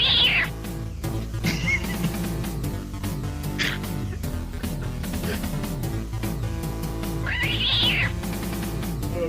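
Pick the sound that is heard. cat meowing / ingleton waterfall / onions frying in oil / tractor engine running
cat meowing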